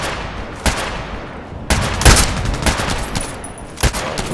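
Bursts of TKPD sniper carbine fire in the shooter game Contract Wars ring out in several loud, sharp cracks spaced irregularly, with some fired through a wall, over continuous game background noise.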